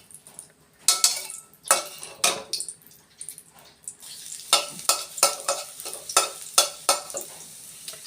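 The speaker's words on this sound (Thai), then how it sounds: "ก็จะผัดผักกาดขาว" Napa cabbage and pork being stir-fried in hot oil, with repeated loud scraping strokes of a spatula against the pan over a steady sizzle, no voices.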